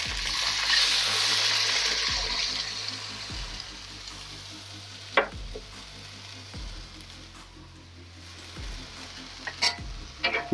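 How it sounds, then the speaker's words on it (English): Sauce is poured into a sizzling wok of Hong Kong chicken pan-fried noodle stir-fry, a loud gushing hiss swelling at first, then settling into steady frying with occasional sharp clanks of the utensil against the pan. "And then just mix your sauce,"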